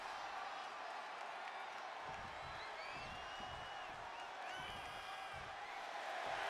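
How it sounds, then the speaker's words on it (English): Capacity arena crowd at a wrestling event in WWE 2K25, a steady roar of cheering and whoops that swells and holds across the whole stretch, loud and continuous with faint calls rising above it. "This capacity crowd is sending him love, and he's sending it right back."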